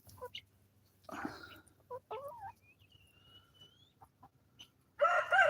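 Quails in an aviary built on a compost pile give short clucking and crowing-like calls, scattered bursts close by, with a louder burst of calls at the end and a faint whistle between.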